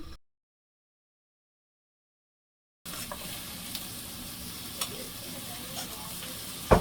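Onions sizzling in hot oil in a pan as the base for a bottle gourd tempering, a soft steady frying hiss that starts after a stretch of silence, with faint stirring clicks and a louder scrape at the close.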